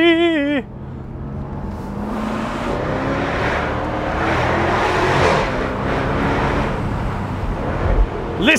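A Jaguar F-Type R Dynamic roadster with its roof open accelerates hard uphill. The engine gives a loud, sustained roar as it revs, after a brief rising whine at the start, and it stays close and dominant throughout.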